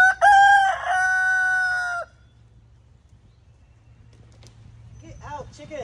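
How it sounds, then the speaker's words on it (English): A chicken loosed in a building gives a loud, close crow in the first two seconds, followed by quieter clucks under a low steady hum, then a few rising squawks at the end. "Get out, chicken."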